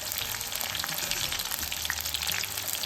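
Green chillies sizzle and fry steadily in an oil-filled pan for a North Karnataka salted chilli snack, a close, continuous crackle with small pops throughout and no talking.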